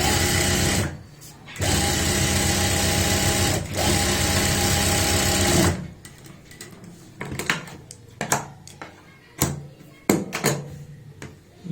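A sewing machine runs steady, fast bursts while double-stitching the seat seam of palazzo pants, stopping twice briefly, then gives way to clicks and handling noises of fabric being adjusted.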